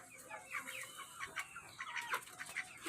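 Backyard chickens in a coop clucking and calling, several birds overlapping in short bright bursts at a moderate distance, fairly faint, with no talk.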